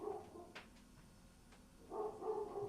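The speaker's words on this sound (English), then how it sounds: "sounds like Connie's barking upstairs" A small dog named Connie barks upstairs, several faint muffled barks in two short bursts heard from another floor of a house.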